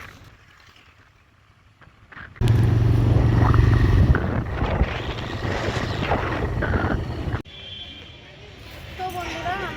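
A motorbike ride along a road, with broadband engine and wind rumble that rises loudly after a quieter opening, then drops back, while people talk over it.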